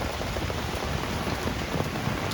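Steady rain pours down without a break, a dense, even hiss of drops striking surfaces up close, loud and continuous with no voices over it.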